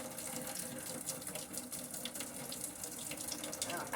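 Pasta water drains into a kitchen sink in a continuous, steady gushing splash that holds at an even level from start to finish.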